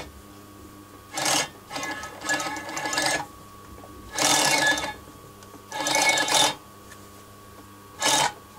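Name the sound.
industrial sewing machine stitching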